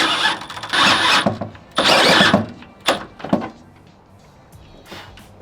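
A step drill bit bores a hole, with two loud bursts of cordless drill whine, then shorter grinding pulses and quieter handling noise.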